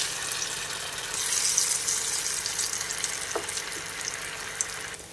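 Coconut balls frying in hot oil, a steady, moderately loud sizzle with crackling bubbles that swells briefly and holds, with a couple of small clinks.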